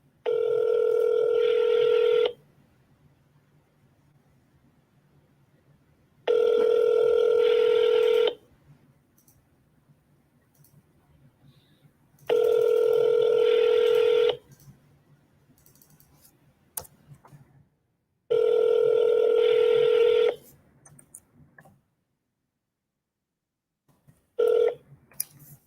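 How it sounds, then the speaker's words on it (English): A telephone call rings out after dialing, with four long regular ringback tones separated by silent pauses and a short start of a fifth at the end, clear and steady with no talking. "Let's see if they pick up the phone."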